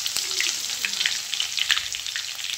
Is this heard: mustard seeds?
yes